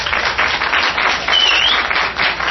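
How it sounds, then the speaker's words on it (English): Audience applause fills a presentation ceremony honoring a young talent: dense, steady clapping from a crowd, loud and continuous throughout with no one speaking over it. "Give it a big round of applause."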